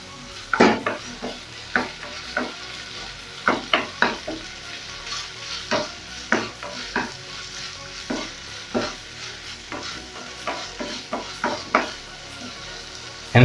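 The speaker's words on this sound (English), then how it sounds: "And then I'll give it a good stir." Spoon stirring a pot of creamy, cheesy pasta with beef smokies and mozzarella, giving a series of close, irregular scraping and clinking strokes over a soft sizzle, with no voices.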